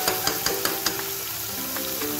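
Ginger, garlic and chili paste sautéing in a pan for matar paneer pulao, a steady close sizzle broken by several sharp stirring taps of a spoon against the pan early on, with no talk.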